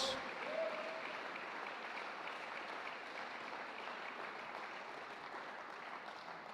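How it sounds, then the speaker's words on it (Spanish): A church congregation applauds during a sermon, steady and sustained clapping from many hands that stays fairly even throughout, slightly distant, with no clear talk over it. "Hay un discípulo que le pueda dar un fuerte aplauso a Jesús esta mañana"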